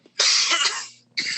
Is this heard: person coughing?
yes